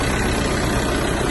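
A VW Passat B5 with the 1.9 TDI diesel engine idles steadily, a close, continuous rough clatter and hum with no talk over it.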